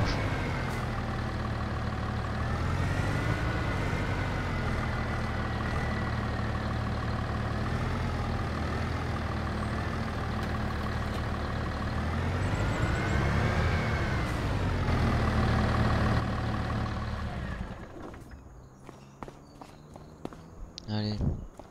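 A new, borrowed farm tractor engine runs steadily nearby with a loud, deep drone that rises and falls in pitch, then cuts off sharply near the end, leaving quieter clatter and movement behind.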